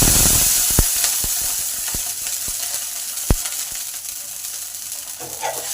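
Water is sprinkled onto a hot, brush-oiled dosa pan and it sizzles loudly in a steady close hiss, with a few sharp crackling pops.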